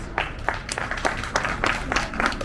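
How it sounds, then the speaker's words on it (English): Scattered hand claps ring out at a grand opening event, a handful of separate sharp claps in a loose rhythm rather than a full, dense ovation, over a low background murmur. "let's give these my staff a round of applause, please."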